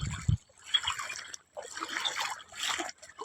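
Rainwater trickling and flowing through a muddy village spot after heavy rain, a soft continuous watery run with short pauses, fairly close and faint.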